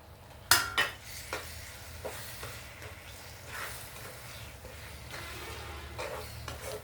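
Ground okra paste being added to a pan and stirred for a Telugu bendakaya kutu curry: a sharp metallic clang from a spoon against the pan, then soft repeated scraping and stirring with faint sizzling, no talk.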